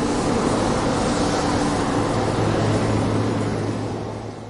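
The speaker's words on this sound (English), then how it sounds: "Combine, harvester." A combine harvester droning steadily, a broad mechanical rumble with a low hum, gradually fading toward the end.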